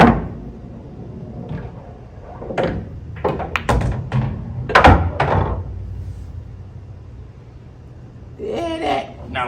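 Cue ball struck by a cue and clicking into object balls during a 9-ball practice shot on a pool table, a string of sharp close knocks and taps with quiet talk between shots.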